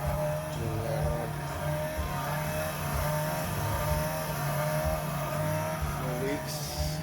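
A car engine idles steadily throughout, a constant low rumble close by, with faint voices in the background.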